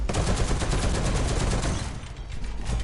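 Rapid machine gun fire in the War Thunder video game rattles in a fast, unbroken burst of evenly spaced loud shots, close and dominant, easing slightly near the end; no talking.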